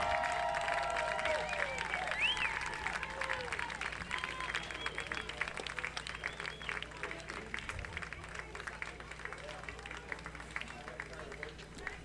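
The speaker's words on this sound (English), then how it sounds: "Let's give them a big round of applause for their participation here." A crowd at a youth baseball tournament applauds the host team Lexington National, a dense spread of distant claps and cheers with a few whistles, while an announcer's amplified voice carries over it.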